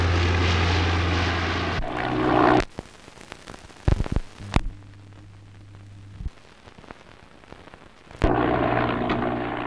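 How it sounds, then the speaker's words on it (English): Propeller airplane engine drone at an air show, loud and steady at the start and end, broken in the middle by sharp bangs and a quieter low hum. "On landing, the plane can reverse back to the end of the landing strip,"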